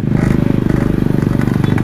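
A Yamaha RX King motorcycle with an open exhaust rides on the road, its two-stroke engine crackling in a rapid, loud, close pulse throughout.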